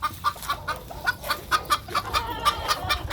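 A hen sits in her nest laying eggs and gives a quick run of rhythmic clucks, about four a second, close to the microphone with no talking.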